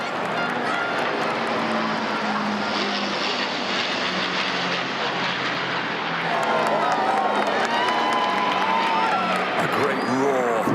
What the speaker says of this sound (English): The first of the aircraft to fly over the King and Queen as they stand on the balcony with other members of the royal family, the Lancaster bomber.